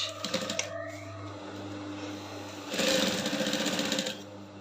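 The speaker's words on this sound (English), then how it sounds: "It's time for us to start sewing our edge-limb boning." A sewing machine stitches boning onto a corset in two quick runs of fast, even needle rattle, close up, with a pause between them and a slightly louder second burst.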